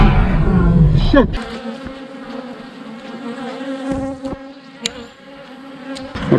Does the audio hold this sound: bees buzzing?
yes